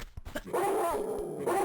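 Dog barking in the video game Tomb Raider II, a few quick sharp barks followed by a sustained whining yelp, fairly close and without talk.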